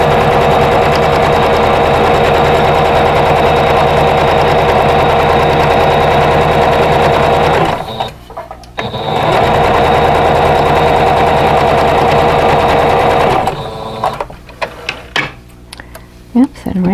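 A sewing machine stitches a vintage quilt block with a loud, close, fast mechanical whir. It runs steadily, pauses briefly, runs again, then stops as the bobbin runs out, and a few handling clicks follow.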